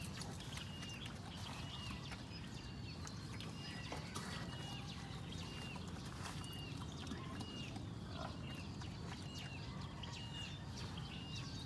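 Pigs in a farm pen, including a sow with a litter of ten piglets, give faint, continuous grunting and occasional squeals under a steady hum of barn ambience throughout.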